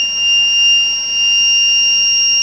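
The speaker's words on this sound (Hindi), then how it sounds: "जैसे ही 15 के नीचे जाएगा अलार्म बज जाएगा" A steady, high-pitched electronic low-flow alarm on an aquaculture pump controller sounds continuously and fairly loudly, with a second tone layered beneath it and no pauses.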